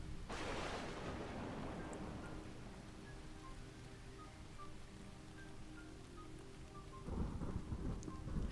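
A thunderstorm in a video game opens with a close, heavy thunderclap, then steady rain keeps falling, and a second rumble of thunder swells near the end.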